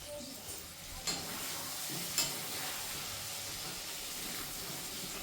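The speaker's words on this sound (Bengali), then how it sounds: "এখন চলে আসলাম রান্নাঘরে, রান্না শুরু করে দিলাম।" Home kitchen cooking: food sizzles and hisses steadily in a pan while two brief sharp knocks of a stirring utensil stand out, the frying close and continuous with no talk.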